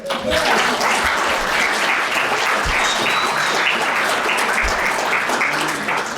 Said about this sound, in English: giving yourself and all of the organizers an amazing round of applause